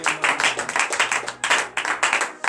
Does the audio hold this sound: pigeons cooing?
no